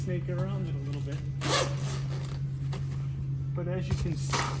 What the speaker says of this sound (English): I've zipped it up